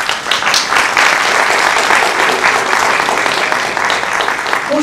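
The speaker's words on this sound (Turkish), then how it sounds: "alkışlarınızı aldık, yüreğimizin içine koyduk" An audience claps steadily and loudly at the opening of a Turkish classical music choir concert, a dense sustained applause that fades slightly toward the end.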